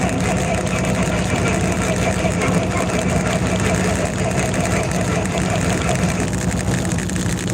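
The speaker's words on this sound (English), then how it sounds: "Look at that, it started without ether this time." A forklift engine running steadily just after starting, a loud continuous idle with a little throttle, close and constant throughout with no talk heard.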